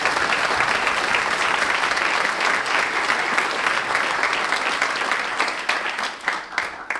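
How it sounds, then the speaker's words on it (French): A concert audience at a wind band's ciné-concert gives loud, sustained applause, dense and even throughout, with a few sharper individual claps standing out as it begins to taper near the end. "Je vous applaudis."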